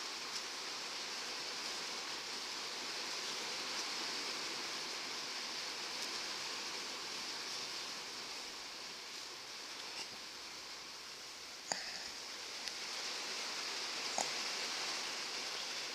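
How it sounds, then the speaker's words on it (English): Mixed rain and snow falls outdoors as a steady, even hiss of drops across the whole stretch, with a couple of faint brief clicks near the end and no voices. "I have to apologize, it's raining."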